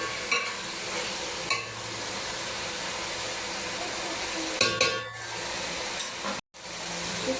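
Boiled beef is added to a fried spice masala for beef pulao and stirred in the pan, making a continuous sizzle broken by occasional scraping stir sounds.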